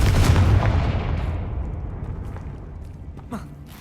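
A Confringo fire spell in Hogwarts Legacy bursts with a loud, close blast at the start, then rumbles and fades over a few seconds, with a small crackle late on.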